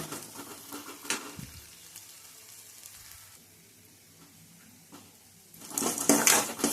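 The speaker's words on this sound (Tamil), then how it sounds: "நல்லா இது சிம்மிலே வச்சு நல்லா வதக்கிக்கோங்க" Turkey berries (sundakkai) sautéing in a pan over a low flame, a soft steady sizzle with occasional clinks of utensils, rising to a louder burst of frying near the end.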